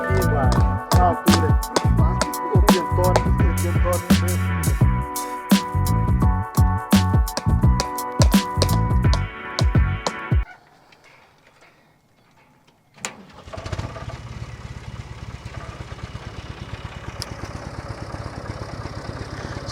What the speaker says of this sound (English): this is the last piece that has to be pulled by tractor